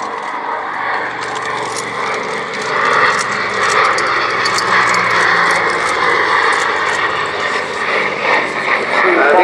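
An Avro Anson twin-engine aircraft flies past at an airshow, a steady loud propeller-engine drone filling the air under a commentator's voice.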